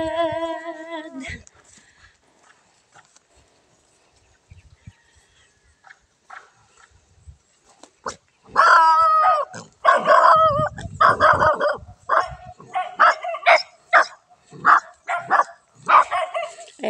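Dog barking in a Filipino outdoor setting, a burst of loud repeated barks and yips close by from about the middle onward, following a quieter stretch with faint sounds.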